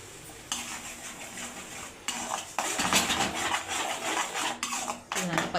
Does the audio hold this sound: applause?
no